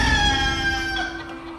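A rooster crowing, one loud close call with a steady ringing tone that holds and then trails off, heard alone without talk.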